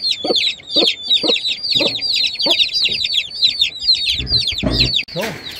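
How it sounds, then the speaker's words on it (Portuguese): A hen with very young chicks on a Minas Gerais farm clucks in a steady rhythmic series while the chicks peep continuously and close by, with a brief scuffle near the end. "Galinha de pintinho novinha."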